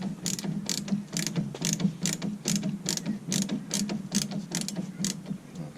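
A screw being turned out of a cowl with a ratcheting tool, giving a steady run of close, regular clicks, about two per second, with no voices.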